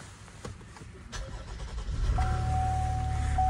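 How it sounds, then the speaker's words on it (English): 2017 GMC Acadia engine starting up, a quiet crank building into a steady idle with a faint electronic tone, heard close from inside the vehicle. "Give it a quick start up."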